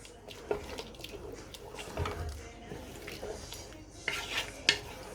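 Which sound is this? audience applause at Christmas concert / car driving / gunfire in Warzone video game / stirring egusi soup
stirring egusi soup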